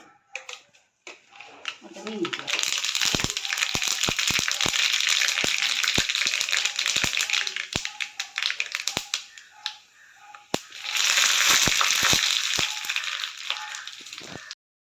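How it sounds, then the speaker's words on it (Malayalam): Mustard seeds spluttering in hot coconut oil, giving sharp popping crackles over a dense loud sizzle that surges, fades briefly and then swells again, with a voice speaking at times. "1 ടേബിൾ സ്പൂൺ വെളിച്ചെണ്ണ ഒഴിച്ചു. 1 ടീസ്പൂൺ കടുക്."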